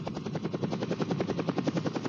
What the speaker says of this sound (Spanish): El técnico en helicópteros de Codesur realiza un perfecto aterrizaje